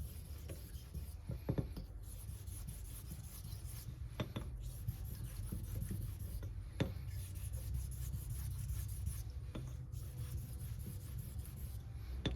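Straight razor blade stroked on a Belgian coticule hone under medium to heavy pressure, a quiet continuous scraping rub with occasional sharp ticks as the strokes turn.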